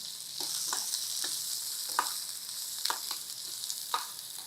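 Onions frying in a pan for a stuffed brinjal masala curry give a steady soft sizzle with light scraping stir clicks at irregular intervals, close and moderate in level, with no voices.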